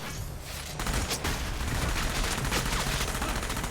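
Gunfire in Enslaved: Odyssey to the West, an action video game, erupts after a brief quieter moment into a loud, continuous burst of rapid shots that lasts to the end.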